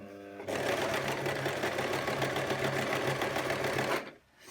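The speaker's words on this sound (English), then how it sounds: "I'm going to be sewing using the presser foot width" A sewing machine hums in one steady, close burst of stitching along a skirt hem, starting abruptly and stopping after about three and a half seconds.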